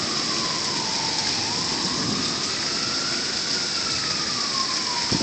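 Heavy, sudden rainstorm pouring down in Dallas, a dense, constant roar of rain with a siren wailing faintly in the distance, rising and falling; loud and continuous, no voices.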